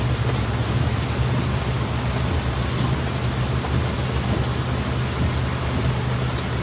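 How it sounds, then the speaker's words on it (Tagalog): Heavy rain pours down in a dense, continuous roar during flooding in Rodriguez (Montalban), Rizal, staying loud and even throughout, with no voices. "Ito ay malakas ang ulan dito."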